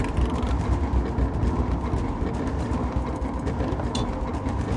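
Mine cart ride in the Temple Run 2 video game, a loud continuous rumbling rattle of wheels on rails with a low heavy roar throughout, no voices.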